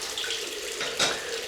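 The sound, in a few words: tap water running for cold rinse after shaving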